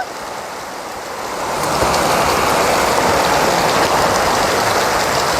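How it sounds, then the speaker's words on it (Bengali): Heavy out-of-season rain pours down on a village home, starting as a steady hiss and swelling within two seconds into a louder, dense roar that continues without a break, with no voices. "আরো জোরে নামে আসলো বৃষ্টি দেখো"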